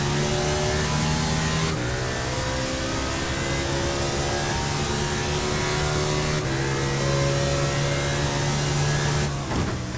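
A NASCAR race car engine in the iRacing sim at Road America screams at high revs with a steady onboard drone, dropping sharply at each of several quick gear shifts, including third to fourth, then climbing again.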